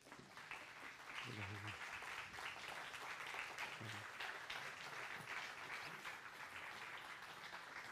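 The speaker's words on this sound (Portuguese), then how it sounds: "Uma salva de palmas, por favor, para Rafael Galo" Audience applause for author Rafael Gallo at an evening talk event, a sustained, dense wash of clapping from a crowd lasting throughout, with some voices mixed in underneath.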